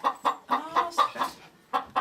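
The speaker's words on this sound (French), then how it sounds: "c'est mes petites oies" Young geese call in a series of short, nasal, rhythmic peeps and honks, about eight calls close by over two seconds, with a brief gap before the last two and no talk.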